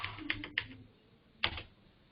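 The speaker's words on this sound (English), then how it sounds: "typing the password here." A password typed on a computer keyboard: a few quick, close key clicks in two short bursts separated by a brief pause.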